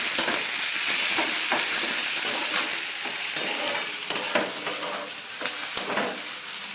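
Tomato sizzles and hisses in hot oil in a pan alongside urad dal, with a steady bright crackle and occasional scraping stirs of a spoon.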